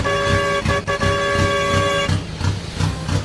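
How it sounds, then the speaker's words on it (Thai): A Farming Simulator tractor horn honks in a few short blasts followed by a longer sustained tone over a low rumbling engine, with no talking. "ทดสอบแตรหน่อย"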